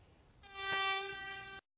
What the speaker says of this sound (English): With a blast of its whistle, a metro train drives gently forward and then reverses.